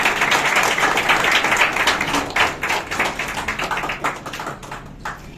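Audience applause at a Kerala political party gathering, a dense burst of many hands clapping that holds steady for several seconds, then thins into scattered individual claps and fades out.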